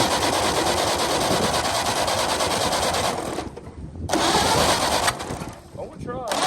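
A 1929 Ford Model A engine, unrun for over 75 years, cranks in repeated starting attempts. A steady mechanical churning is broken by brief pauses, with voices talking over it.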